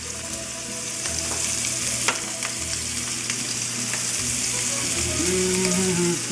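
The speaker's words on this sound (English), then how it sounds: "I'm going to take these sausages that I've already browned. We're gonna add those to the sauce," Browned sausages go into a pan of spaghetti sauce and give a steady close sizzle and bubbling with light scrapes and clicks of a utensil. A low hum sits under it and a brief musical tone is heard near the end.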